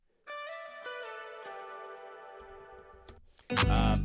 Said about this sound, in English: And then I do a little guitar fill up here.